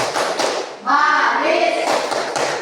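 Children in an Indonesian classroom clap along to the ice cream clap chant, with bright chanting voices over quick, soft hand claps and thumps in a lively, rhythmic burst.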